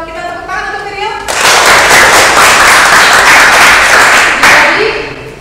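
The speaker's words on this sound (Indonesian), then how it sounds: "Kita tepuk tangan untuk Virial." Students in a classroom break into loud, dense clapping for a classmate, starting abruptly after a voice and sustaining for about three seconds before tapering as speech resumes.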